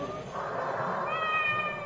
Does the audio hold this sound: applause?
no